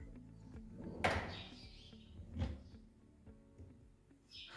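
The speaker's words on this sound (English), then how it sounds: "The drawers are also working well. We have to do a test to see if they are functioning well." Kitchen cabinet drawers in an open plan kitchen slide open and shut, with two distinct sliding thuds about a second apart, another softer one near the end, and faint room background in between.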